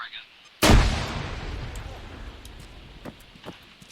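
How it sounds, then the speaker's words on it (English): A frag grenade goes off in a Star Wars shooter, one sudden loud blast followed by a long rumbling decay, then scattered distant gunshots. "I can toss a grenade over. Frag out."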